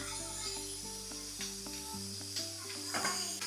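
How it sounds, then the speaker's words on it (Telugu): Dried and green chillies frying in hot oil for coconut chutney, giving a continuous close sizzle and hiss with a few light scrapes, under a steady tonal hum. "ఫస్ట్ ఎండుమిర్చి వేసుకున్నాం, ఒక 2 పచ్చిమిర్చి వేస్తే బాగుంటుంది."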